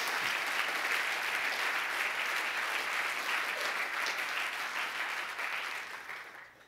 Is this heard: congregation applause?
yes